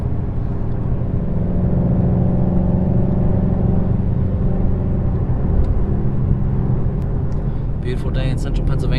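A Ford Mustang Shelby GT350 in sport mode idles and rumbles with a loud, deep, steady exhaust drone, continuous and close, with a few faint ticks near the end.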